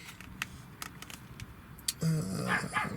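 A small dog barks near a van being treated with Waxol in a camper conversion, a brief burst of yapping barks that rises suddenly over quiet background clatter.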